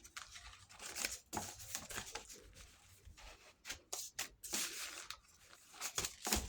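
Scraps of paper shuffled around on a craft table for a junk journal, giving close, intermittent rustling, crinkling and sliding sounds with no talk.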